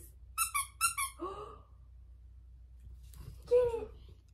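Squeaky dog toy shaped like a bone gives a quick run of three or four sharp, high squeaks, then goes quiet before one more squeak near the end, close by in a quiet room.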